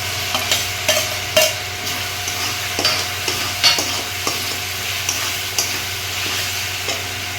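Vegetables go one by one into a hot pan for a soybean and potato curry, giving a steady sizzle with repeated sharp scrapes and clinks of a spoon stirring against the pan, and no voices.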